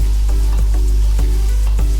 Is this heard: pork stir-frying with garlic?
yes